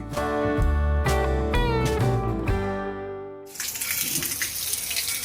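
A few seconds of ringing tonal notes give way to a steady, loud rush of water pouring from a stone cow-mouth spout on a riverbank beside a temple, continuing to the end.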